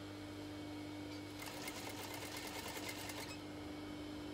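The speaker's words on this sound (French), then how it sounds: "Je démarre avec un point d'arrêt" Sewing machine running a backstitch along a serged seam while making a simple four-rectangle tunic, a steady rapid stitching burst of about two seconds over a low constant hum, fairly close with no talking.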